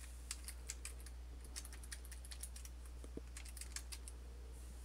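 Keys clatter on a computer keyboard in quick, irregular bursts of soft clicks, close by and fairly quiet over a low steady hum, with no talking.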